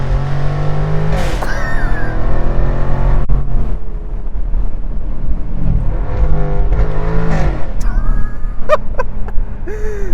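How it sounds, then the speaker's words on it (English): A Jaguar F-Type R accelerating hard in second gear, heard close and loud. The engine note climbs in strong rising sweeps, with a short easing off between pulls. "You just put it into second gear, slow down a little."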